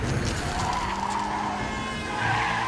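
Cartoon sound effect of a car skidding on an icy road, a sustained tire-squeal whine with a rumbling low end that holds steady for nearly three seconds and swells slightly near the end.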